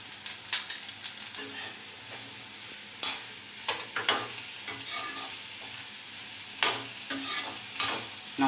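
Capsicum stir-frying in a pan on high flame, a steady sizzle punctuated by repeated sharp scrapes and clatters of a spatula tossing the pieces, close and loud with no voices.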